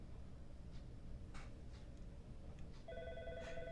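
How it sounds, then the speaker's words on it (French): A mobile phone ringtone starts partway through, a repeating electronic melody heard faintly in a noisy room during a French-language community livestream, with no clear talking over it. "mon téléphone qui sonne"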